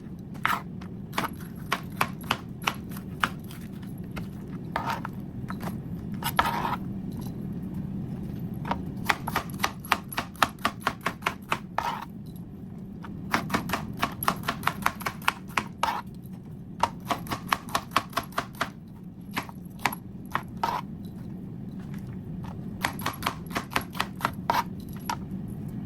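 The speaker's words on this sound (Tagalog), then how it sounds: "Tingnan mo malalaki ang mga hiwa ko kasi nga, ang palaya kasi, gusto ko ng malalaki ang hiwa" A knife chops bitter gourd (ampalaya) into large slices on a cutting board, giving crisp, close, rapid knocks in bursts with brief pauses between runs.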